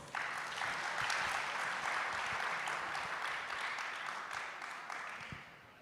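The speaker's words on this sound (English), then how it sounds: "Could you have a round of applause for all of them?" An audience at an event in Kerala claps steadily: dense, sustained applause from a crowd that holds at full strength for several seconds, then begins to taper off near the end.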